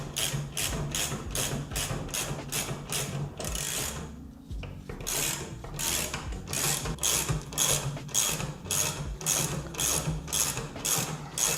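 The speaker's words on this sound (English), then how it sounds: "we're gonna release this spring slowly and close this thing up" An Indian Challenger motorcycle fork has its spring tension slowly released and the fork closed up, giving a steady run of close, rhythmic ratcheting clicks, briefly pausing midway before the repeated mechanical rasping resumes.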